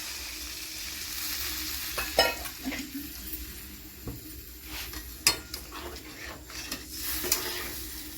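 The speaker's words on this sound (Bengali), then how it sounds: "এবার এর মধ্যে আমি সামান্য পরিমাণ জল দেব, মোটামুটি 1 কাপের মতন জল দেব এর মধ্যে।" A simmering prawn and taro curry is stirred in a pan after water is poured in, with soft sizzling, bubbling and several scraping clinks of a spoon against the pot, fairly quiet and without talk.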